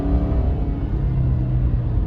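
A Subaru car with a replaced valve body pulls away hard at full throttle, its engine a loud, steady low roar with a rising whir underneath, heard without any voices.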